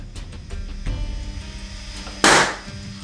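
A single balloon bursts when struck by a 2-watt LaserCube laser beam, giving one sharp, loud pop near the end after a stretch of quiet room tone with a few faint knocks.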